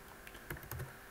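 A few scattered keystrokes on a computer keyboard while entering code parameters, faint and close, with a small cluster of taps near the end.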